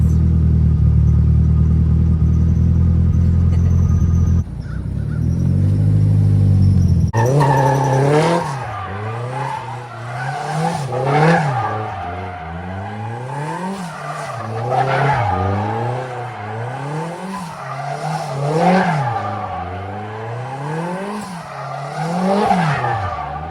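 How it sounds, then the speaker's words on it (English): A drift car spins donuts, its tires squealing and skidding in loud repeating waves as the engine revs rise and fall, after an opening stretch of heavy engine roar. "Now let me do it. And do some donuts."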